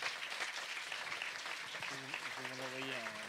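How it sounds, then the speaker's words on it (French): Conference plenary audience applauding in a large hall, a dense wash of clapping throughout, with a voice speaking over it toward the end. "On peut les applaudir."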